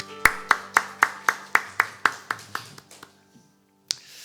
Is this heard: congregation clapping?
yes